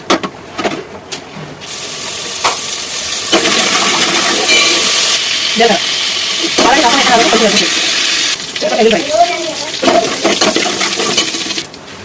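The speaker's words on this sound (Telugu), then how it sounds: "కొంచెం ఆయిల్ వేసుకొని తాలింపు పెట్టుకోవాలి." Spices for rasam tempering crackle and sizzle in hot oil in a pan, a loud continuous frying hiss with stirring, and a few indistinct voices at moments.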